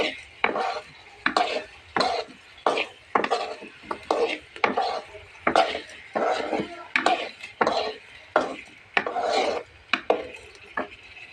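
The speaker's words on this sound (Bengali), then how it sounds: "এখন এইটাও আমি একটু কষিয়ে নেবো ভালো করে।" Sponge gourd being stir-fried in oil in a pan, a steady rhythm of spatula scrapes and clatters against the pan about once a second over a soft sizzle.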